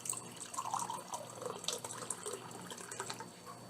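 Filtered water poured into a jar of sourdough starter and freshly milled kamut flour, a soft continuous trickle and splash close by, steady for a few seconds with no talking.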